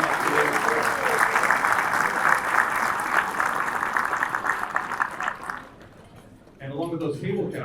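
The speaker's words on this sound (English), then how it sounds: "we want to give you a round of applause" A luncheon audience applauding its table captains, sustained dense clapping from a full room for about five seconds, then fading out before a voice starts speaking.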